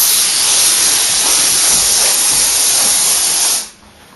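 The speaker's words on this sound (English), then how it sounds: "I'm using spray foam" A can of spray foam hisses loudly and steadily while it is sprayed to glue insulation to plywood, then cuts off abruptly near the end.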